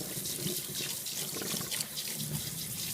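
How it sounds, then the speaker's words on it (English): Water runs steadily from a tap while a Yorkie is rinsed off in a sink during a bath, a continuous close splashing flow with no talk. "And you start to rinse her off."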